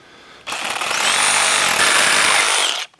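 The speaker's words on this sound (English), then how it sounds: "I am gonna try to put a little bit of a bevel on these so the handrails sit better" A power tool runs at full speed for about two seconds, shaving a bevel onto wooden handrails with a loud, steady, high whine that cuts off abruptly; no talking.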